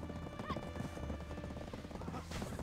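Horses in a horse race in the video game Black Desert, with steady galloping hoof clatter and a neigh, heard close and at moderate level with no talking.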